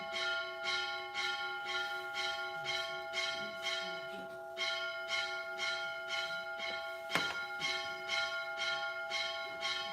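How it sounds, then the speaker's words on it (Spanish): Church bells ring in a rapid, steady pulse with a sustained humming tone beneath, lasting throughout and heard from some distance, with one louder knock partway through. "Bueno, esperamos las campanas."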